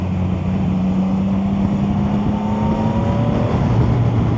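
Three-cylinder engine of a Chinese motorcycle roars steadily and close, a deep droning growl with a faint rising tone near the end, and no talk over it.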